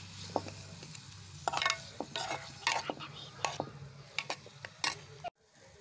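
Tomato masala stirred in a pan for potato masala gravy: sharp scraping and tapping strokes at an uneven rhythm over a low background hum, close and fairly quiet, ending in a sudden cut.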